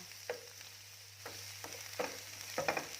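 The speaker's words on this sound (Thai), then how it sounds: "เราก็จะผัดขิงลงไปค่ะ ประมาณ 20 กรัม" About 20 g of ginger stir-fried with mushrooms in a pan over medium heat: close, steady sizzling broken by about five scraping spatula strokes, with no talking.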